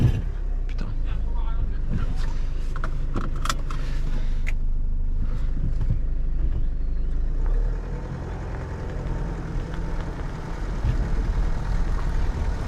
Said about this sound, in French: on passe dans son jardin avec la bagnole